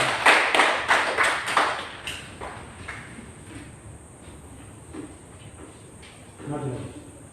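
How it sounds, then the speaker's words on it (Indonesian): A classroom group claps hands in a quick, loud burst of several rhythmic claps that fades out, followed by quieter room sounds and a little talking. "kita tepuk tangan untuk Fedi"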